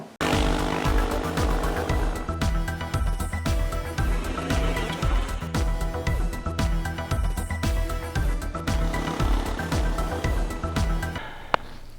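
Yamaha Tenere 700 motorcycle engine running with an irregular fluttering, pulsing beat, loud and close throughout, ending with a brief sharp tick.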